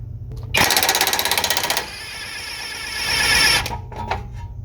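A power tool rattles in a fast, loud hammering burst on a 21 mm sway bar end link nut of a 2010-2014 Ford Taurus, then drops to a higher whirring spin before stopping.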